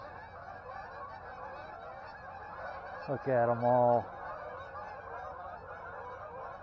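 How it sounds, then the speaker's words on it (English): Geese near a river in December honk in a brief loud cluster of calls over steady flowing water, with someone speaking briefly. "Freaking Goose City."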